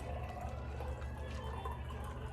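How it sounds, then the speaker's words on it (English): A hurricane cocktail is poured through a strainer into a hurricane glass, giving a soft, continuous trickle and splash of liquid over a low steady background hum, close and quiet. "I'm going to pour it into the hurricane glass"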